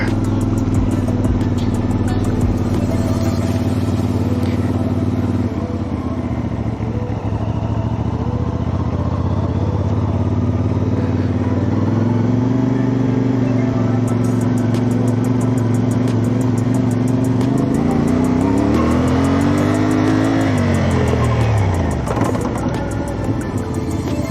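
A CFMOTO 450 adventure motorcycle rides an off-road training course, its engine droning steadily, then swelling in a smooth rising rev as it accelerates, close and loud throughout with continuous road and wind noise.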